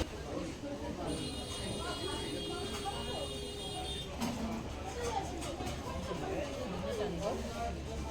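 Steady low rumble of a passenger train in motion, heard from inside a carriage on a return trip from Gangtok, with continuous passenger chatter and babble throughout.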